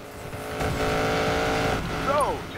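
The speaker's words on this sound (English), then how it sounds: "You know when you step on the gas and the engine growls to life for a second?" A car engine in the racing game Need for Speed Payback revs up and holds a steady roaring drone, with a brief rising whine near the end, while people talk over it.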